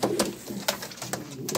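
Pouter pigeons cooing inside a loft in Tangier, a few soft, close, repeated coos in short bursts against a quiet background.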